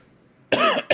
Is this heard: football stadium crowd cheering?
no